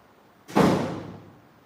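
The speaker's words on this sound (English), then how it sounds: "I just got to shut this door for a minute." A door that does not shut properly is pushed closed with one loud, close thud that rings out and fades over about a second, in an otherwise quiet room.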